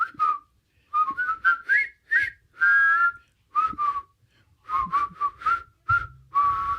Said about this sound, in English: The whistling scene. I love the whistling scene.